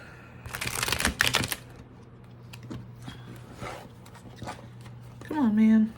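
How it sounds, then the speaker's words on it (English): A deck of cards is shuffled in two quick riffling bursts near the start, close and crisp, followed by quieter handling taps under low talking. "let me shuffle just in case"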